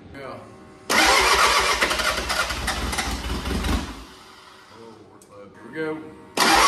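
A diesel engine swapped into a 1990 Ford Bronco II cranks and catches with a loud roar after the injectors are purged, then settles to a rough idle; people talk over it.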